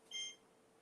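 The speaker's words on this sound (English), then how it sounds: "Let me turn off the timer." Kitchen timer beeping during chocolate chunk banana cake baking: one short, fairly faint electronic beep near the start, then quiet room tone.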